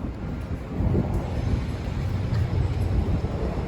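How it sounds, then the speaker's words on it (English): A subway train runs beneath a sidewalk ventilation grate on Yonge Street in downtown Toronto, producing a steady, deep rumble that swells slightly and holds throughout, mixed with outdoor wind noise. "Because literally right down there is the subway."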